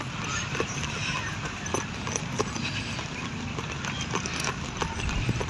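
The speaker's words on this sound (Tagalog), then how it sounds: "nay kabayo diri" Hooves of a horse clip-clop on a muddy rural path, a steady uneven patter heard alongside a passing motorbike ride, with a voice talking over it.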